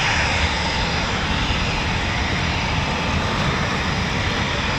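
Eurofighter Typhoon FGR4 jet of 29 Squadron taxiing at an RAF station, a loud steady engine roar with broadband rumble and hiss held evenly throughout, no voices.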